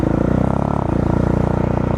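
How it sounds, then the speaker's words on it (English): Supermoto motorcycle engine revving with the clutch pulled in, a steady, close, harmonic drone whose pitch rises slightly partway through, with no talking. "if you hold your throttle steady and you pull the clutch in, listen to what the engine does. See how it starts to rev more?"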